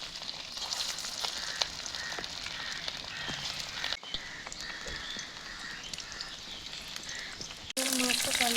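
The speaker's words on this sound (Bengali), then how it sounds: "তেল গরম হয়ে গেছে, এবার একটা একটা করে মাছগুলো দিয়ে দেবো।" Fish fry in hot oil in a kadai for a Bengali-style besan fish curry, a steady crackling sizzle with scattered pops running throughout, briefly interrupted by abrupt cuts, while a voice talks faintly now and then.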